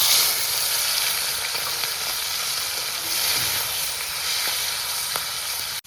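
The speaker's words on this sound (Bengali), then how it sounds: "তো তেলটা গরম হয়ে গেছে, এবার এই চিংড়ি মাছগুলো ছেড়ে দেবো ওর মধ্যে।" Shrimp frying in hot oil on the stove gives off a steady, loud, broad sizzle that holds evenly for several seconds, with no voices over it.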